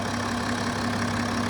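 A 2018 BMW 335d diesel engine idling with a steady, even rumble and a low droning hum, heard close and loud throughout, with no voices present.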